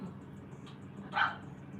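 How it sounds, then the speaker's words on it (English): A dog gives one short bark indoors, a little distant and moderately loud above a low background hum. "I don't know what's going on with my dog."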